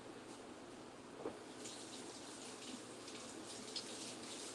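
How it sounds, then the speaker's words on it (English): Hands being washed under a running kitchen tap, a steady faint hiss of flowing water with small splashes and shifts as the hands move through the stream, without speech. "Let me wash my hands."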